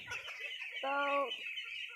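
A flock of about 1,400 paddy-fed ducks on a duck farm in a Naogaon village gives one clear, drawn-out call lasting about half a second, set against steady farmyard background noise.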